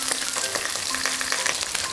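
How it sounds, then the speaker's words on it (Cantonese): Fish bones fried in a pan with lard after ginger slices have been browned, giving a steady, close sizzle with small crackles throughout and no talking. "將啲魚骨攤開嚟煎"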